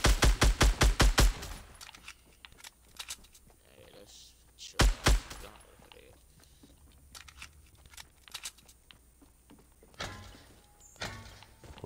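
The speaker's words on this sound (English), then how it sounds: "That's me shooting." A player's gun in the video game Fortnite fires a quick burst of about seven loud shots, then more scattered single and double shots follow among quieter game sounds.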